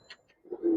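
Giribaz and silver pigeons in a loft, a faint brief chirp followed by a close, soft low coo that swells and holds for a moment.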